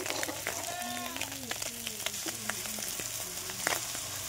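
Silver carp fish fry in hot oil in a home kitchen with a steady, faint sizzle and crackle, and occasional stirring clinks throughout; a few bleating animal calls are heard in the background.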